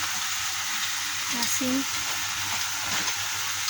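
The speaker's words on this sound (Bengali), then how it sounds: "মেশিনে মুড়ি ভাজা হচ্ছে" Puffed rice roasting in a machine makes a dense, even hiss that runs throughout, while a voice briefly murmurs in the middle of it.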